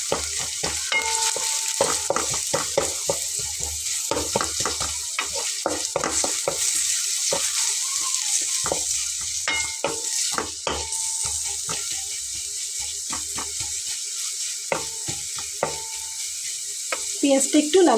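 Red and white onions frying in a pan for a lentil dal with ridge gourd, with a continuous loud sizzle and frequent clinks and scrapes of a stirring spoon against the pan.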